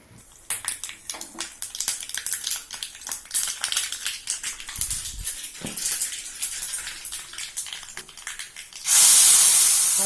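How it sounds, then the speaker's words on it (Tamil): Mustard seeds and three small dried chillies crackle and spit in hot oil for a curry-leaf pepper kuzhambu tempering, with irregular popping that ends in a sudden, loud, steady hiss. "எண்ணெய் காயுது கடுகு குட்டி மிளகா ஒரு மூணு போட்டிருக்கேன்"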